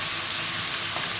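Chicken being stir-fried in a pan for afritada, giving a steady, close hiss of sizzling oil throughout with no pauses and no voices.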